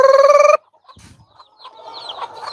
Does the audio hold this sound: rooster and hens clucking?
yes